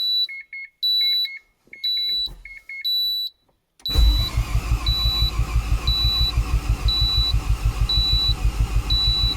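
A Mazda RX-7 FD rotary engine fires up for the first time after a blown-engine rebuild, following a few seconds of repeated electronic alarm beeps. It then settles into a loud, steady, pulsing idle with a choppy rhythm.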